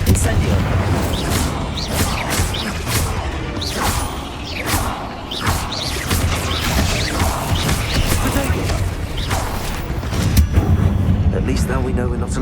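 Bombarda and Confringo spells explode in Hogwarts Legacy, a loud run of booming blasts and crashes following one another over constant rumbling game sound, with voices speaking throughout.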